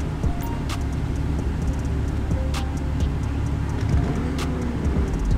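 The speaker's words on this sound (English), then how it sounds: "Let's take the Lambo." A Lamborghini engine in a driving video game gives a steady low rumble with faint clicks on top, heard alone without talk.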